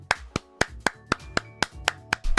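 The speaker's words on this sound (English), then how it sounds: "Everyone applaud Family Style Lasagna" A single pair of hands claps about nine times at an even, brisk pace, each clap crisp and close against a quiet background.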